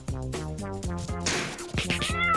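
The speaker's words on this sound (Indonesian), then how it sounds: "Oh, itu kucing tetangga, Sparkly." A neighbour's cat meows loudly several times in close succession, each call rising and falling in pitch, with a harsher, noisier yowl partway through.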